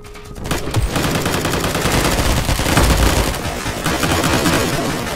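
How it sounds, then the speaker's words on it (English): Mortar explosions and rapid gunfire from the military shooter game Squad, a dense, loud barrage of overlapping shots and booms that keeps up without pause throughout, with heavier thuds building near the middle. "Mortars!"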